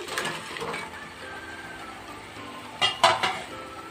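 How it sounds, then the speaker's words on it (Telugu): Crab pieces tumbling into masala in a pan, with a soft clatter of utensils on metal at the start and a sharp rattle of pieces and spoon against the pan near the end, close, over a faint sizzle. "ఇప్పుడు ఈ పీత ముక్కలు ఇందులో వేసేసుకుందాం"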